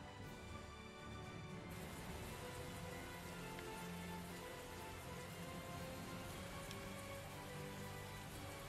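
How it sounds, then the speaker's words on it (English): Steady rain patters densely on surfaces nearby in Tales of Zestiria, a continuous even hiss with scattered drip sounds and no voices. "It's raining here."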